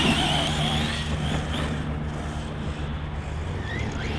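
A ZD Racing Pirates 2 RC car drives toward a jump, its electric motor giving off a steady high whine and rushing road noise at a consistent level, with no voices.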